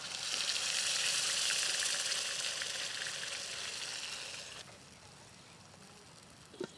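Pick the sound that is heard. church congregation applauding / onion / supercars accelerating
onion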